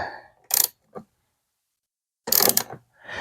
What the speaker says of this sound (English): And our 14 millimeter ratchet here. We can tighten this up.